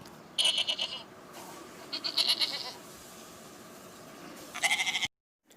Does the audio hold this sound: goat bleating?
yes